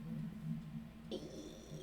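A cat makes a short, low sound, then a sharper cry follows partway through. Quiet room background, no talking.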